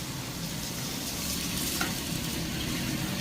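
Onion and green chillies fry in hot oil with asafoetida in a village kitchen, giving a loud, close, continuous sizzle that swells slightly partway through, with no voices.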